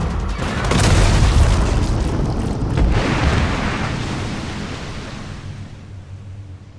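A big booming explosion in Resident Evil 2 Remake as Leon shoots a pipe, with a deep rumbling blast that swells and then slowly fades out.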